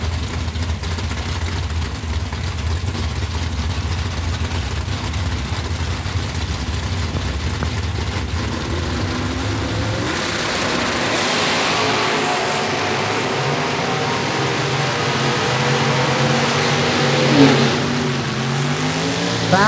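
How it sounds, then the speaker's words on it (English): An 1986 Ford Bronco and a 1968 Camaro at a Super Buck Blast drag race sit rumbling at idle, then launch with a loud, rising engine roar that fills the last half, heard without speech. "Matchup you don't see every day, 86 Ford Bronco versus a 68 Camaro."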